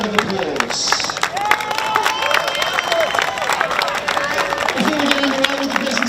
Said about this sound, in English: We're going to give both our combatants a round of applause.